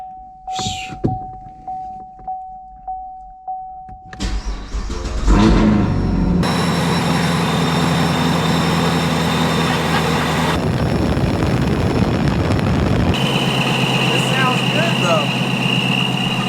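A few clicks and a faint whine, then a supercharged Chevrolet Camaro SS engine cranks and roars to life, settling into a loud, steady rumbling idle with a high whining tone and loud exhaust.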